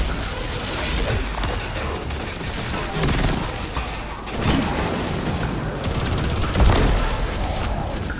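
A grenade explosion amid gunfire in the Destiny 2 shooter game, dense rattling fire and booming blasts filling the whole stretch, with a heavier surge of impacts near the middle and toward the end.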